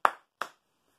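Two sharp, close hand claps ring out about a third of a second apart, each decaying quickly, then silence, as children clap a rhythm pattern.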